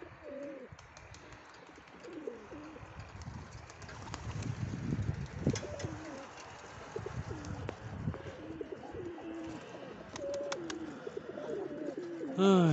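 Several pigeons coo repeatedly in soft, throaty phrases, close by, with occasional rustling and faint background voices.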